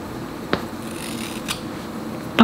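Scissors snip into a short pixie-cut wig from an inexpensive Amazon haul, giving a few crisp, separate cuts about a second apart over quiet room tone.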